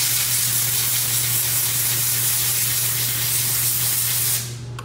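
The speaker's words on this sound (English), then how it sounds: "I use my air gun, again, it's really loud." A compressed-air gun blows steadily to dry freshly ground glass on a flatbed grinder: a loud, close, continuous hiss over a low hum that lasts about four seconds, then cuts off abruptly.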